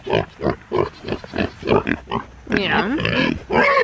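A big pet pig on a farm gives a long series of close, loud, rhythmic grunts, then drawn-out squealing snorts, with no talking.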